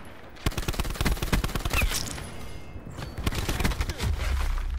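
Rapid bursts of automatic gunfire in Black Ops 4, a dense volley that stops briefly and then resumes, loud and close in a hectic multiplayer match with no talk over it.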